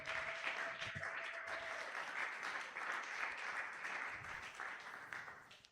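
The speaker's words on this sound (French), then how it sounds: "Est-ce qu'on peut encore acclamer pour la parole?" Church congregation at an Easter Sunday worship service applauding steadily, a dense sustained wash of clapping filling the room for several seconds before tapering off at the end.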